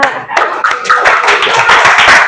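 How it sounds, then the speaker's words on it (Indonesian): Children clap together in a school classroom, a close burst of quick, uneven hand claps that keeps going. "Tepuk tangan anak-anak."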